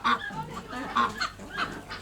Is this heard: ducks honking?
yes